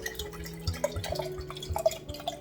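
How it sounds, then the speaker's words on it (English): Filtered water is poured into a jar for a ginger bug ferment, heard as faint, close, irregular drips and small splashes of liquid striking glass for a couple of seconds. "you're going to add some filtered water"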